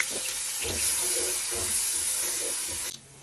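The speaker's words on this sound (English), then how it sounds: "The oil has been hot, so I'm adding the garlic, ginger and onion." Garlic, ginger and onion hitting hot oil, a loud dense sizzling hiss with a few soft clunks, cutting off abruptly near the end.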